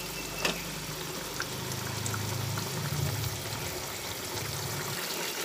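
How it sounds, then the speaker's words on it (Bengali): Milk pours into a simmering pointed gourd curry, a steady liquid wash over a low bubbling bed that swells briefly midway, continuous and close with no talk. "এছাড়া 1 কাপ দুধ এর মধ্যে দিয়ে দিচ্ছি"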